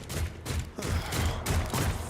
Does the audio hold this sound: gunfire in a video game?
yes